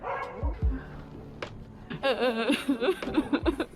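A huge wolfhound barks a few deep times outdoors in Inner Mongolia, up close, while people chatter and laugh over and around the barks.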